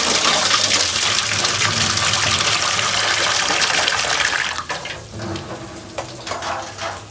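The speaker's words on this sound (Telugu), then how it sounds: "వంకాయలు కడగటానికి చక్కగా నీళ్ళు పోసుకోవాలండి." Water pours and splashes steadily over brinjals being washed, a loud rushing gush for about four and a half seconds before easing into softer, intermittent trickles.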